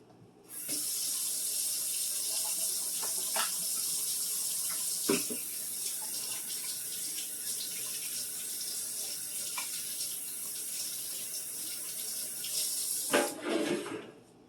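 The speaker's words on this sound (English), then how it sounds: "Always wash your hands before you start working in the kitchen." A kitchen tap runs steadily for about twelve seconds while hands are washed beneath it, a close, continuous splashing with a few brief knocks and a louder burst of splashing near the end.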